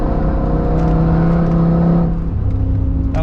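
A 900 hp Audi RS6 Avant C6 with a V10 engine accelerates hard on the Nürburgring, its engine note loud, steady and close, dropping briefly as if shifting gear before pulling again.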